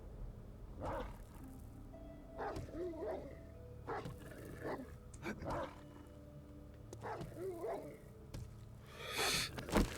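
A hostile dog in the video game 7 Days to Die snarls and barks in repeated short growling bursts over a low steady game drone, moderately close, with a louder flurry near the end.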